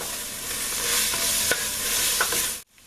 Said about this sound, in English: we're going to mix that in, stir that in for a little bit